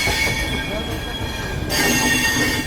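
Train 12791 from Secunderabad to Danapur pulling into Prayagraj Junction, its wheels squealing loudly and continuously against the rails under a dense metallic grind for a few seconds.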